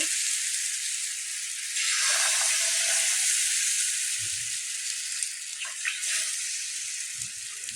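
Ragi dosa batter sizzles on a hot pan, a steady close hiss that swells briefly as batter spreads, with a few soft knocks and scrapes; no talking.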